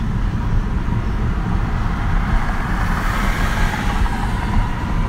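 Car driving on a road at night, a steady low engine and road rumble from inside the cabin, continuous and fairly loud, no talking.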